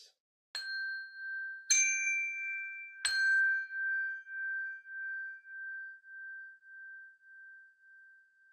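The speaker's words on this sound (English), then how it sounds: "we're going to listen to the sound of the chime bell until it fades into silence" A chime bell struck three times in succession, each bright ring overlapping the last, then one clear tone lingers and slowly fades toward silence, alone with no talking.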